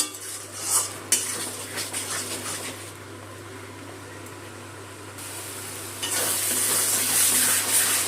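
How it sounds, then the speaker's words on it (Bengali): Yogurt and ground spices being stir-fried in a pan over low gas for a katla kalia fish curry, with a spoon scraping and clinking against the metal under a steady soft sizzle and no talking. "টক দই আর যে গুঁড়ো মশলাগুলো দিলাম সবগুলো কষিয়ে দেবো।"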